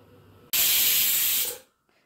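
A pressure cooker cooking tomato rice lets out a single loud, close blast of hissing steam that lasts about a second, then cuts off into near silence.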